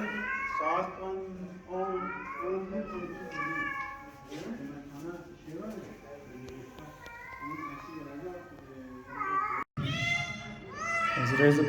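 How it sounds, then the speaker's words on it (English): Many cats at the Van Cat Research Center meow over one another in a dense, continuous chorus of rising and falling calls, some close and loud, with people talking softly beneath them. "So there's a billion cats here."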